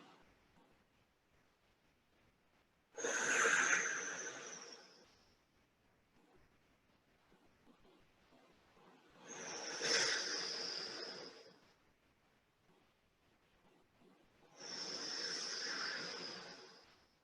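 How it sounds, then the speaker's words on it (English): Three loud, slow yoga breaths sound close to the microphone, each a long airy hiss-like exhale lasting a couple of seconds, separated by quiet pauses. "3 full breaths in and out. Let your breathing be loud."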